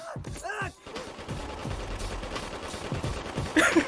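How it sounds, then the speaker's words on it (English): Dual Uzis fire in The Boondocks cartoon, a loud rattling spray of rapid shots mixed with mechanical clatter and a few sharp bursts near the end. "Two dual winding Uzis."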